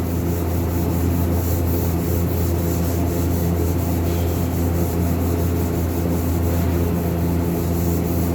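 Steady abrasive rubbing as an automotive surface is sanded in preparation for lacquer (duco) paint, a continuous close scrubbing noise over a low hum, with no talk.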